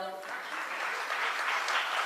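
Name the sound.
audience clapping in applause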